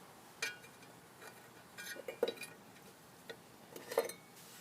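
A loose muffler removed from a Bolens small engine rattles faintly in a few light, scattered clinks and ticks over a quiet background.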